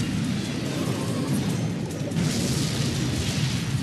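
A rocket spell explodes in Clash Royale, a loud sustained booming rumble filling the whole stretch with no talk over it.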